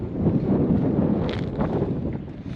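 Steady, heavy wind buffeting the microphone in a continuous low roar in a town at Big Bend National Park, with no voices.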